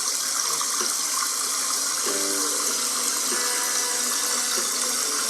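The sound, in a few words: running water from a tap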